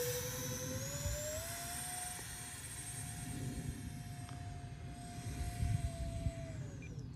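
An RC B-2 stealth bomber model with drag flaps flies overhead, its steady electric whine rising then holding a level pitch throughout over a continuous rushing wind-like roar.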